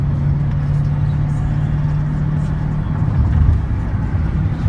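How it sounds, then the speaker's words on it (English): Manual-transmission car pulling hard in fourth gear after a downshift, a steady loud engine drone with a low hum that swells slightly near the end, heard from inside the cabin. "I'm gonna want to put my clutch in and head down into fourth"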